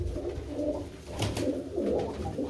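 Tumbler pigeons of a long-distance, somersaulting flying breed coo in low, continuous rolling calls close by, with no voices over them.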